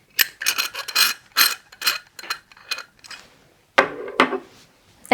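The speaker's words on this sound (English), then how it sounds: "First we are going to loosen the screw" Hexagon wrench loosening a screw on a metal flange clamp: a series of close, crisp ratcheting clicks and metallic ticks in uneven bursts, with short pauses between turns.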